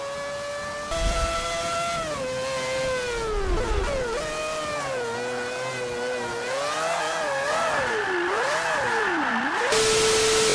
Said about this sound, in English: you just want to keep accelerating to hear that car